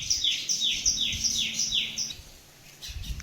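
Birds chirp in a village yard in Kathiawad, a rapid series of repeated bright tweets close by, then fading, over faint outdoor background.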